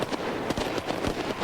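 SIG Sauer P226 pistol gunshots in a TV action scene come as a rapid burst of sharp cracks, several shots close together in quick succession over a noisy background.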